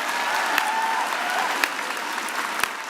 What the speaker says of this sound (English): I think another round of applause for Dr.